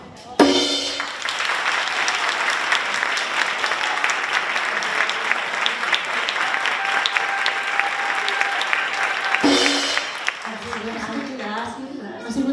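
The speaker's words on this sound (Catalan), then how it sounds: "molts aplaudiments, però molts," A theatre audience at a local event in Massanassa bursts into sustained, dense applause that carries steadily for about nine seconds before breaking off, with voices talking briefly at the start and end.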